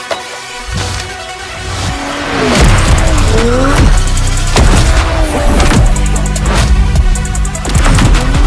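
A stage 2 BMW 435i drifts through Montreal streets, engine revving hard and rising while tires squeal and skid in repeated loud bursts, close and dominant throughout.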